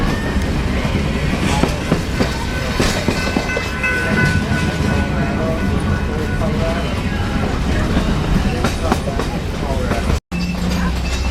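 Heber Valley Railroad train rolling along the tracks in Utah, a steady loud rumble with rhythmic clickety-clack of the wheels and a brief dropout near the end.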